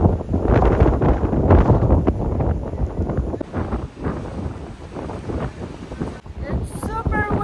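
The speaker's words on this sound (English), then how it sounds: "It's super windy." Strong wind buffets the microphone on the deck of a ship sailing through the Chilean fjords near the Strait of Magellan, a loud, steady roar with gusts throughout and no pause.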